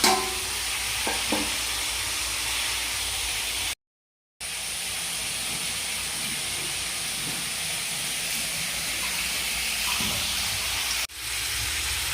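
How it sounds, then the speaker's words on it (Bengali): Chicken fries in a pan for a dhaba-style chicken roast, a steady close sizzle that runs almost unbroken for about twelve seconds, dropping out briefly near the start and again near the end. "চিকেন বন্ধুরা একটা ভাজা হয়ে গেছে, আর কিছুটা বাকি আছে।"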